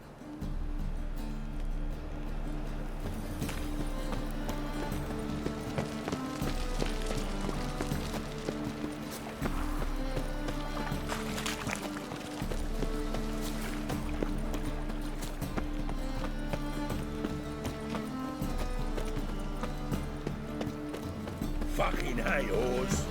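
Horse hooves galloping in The Witcher 3: Wild Hunt, a rhythmic clip-clop running steadily under game music and character speech for the whole stretch.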